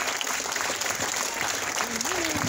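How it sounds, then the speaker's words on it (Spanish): Applause from a church women's and children's group honoring fathers on Father's Day fills the room as steady, dense clapping, with a voice speaking over it near the end. "quiero darle una ofrenda de aplausos a cada uno de ellos"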